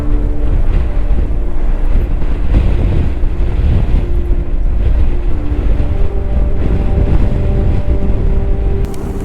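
Strong, cold wind with rain buffets and roars continuously, loud and close, with a low engine-like hum and rushing water underneath.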